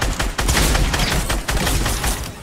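Loud, rapid bursts of gunfire in a Fortnite match, with near-continuous overlapping shots and brief breaks between volleys.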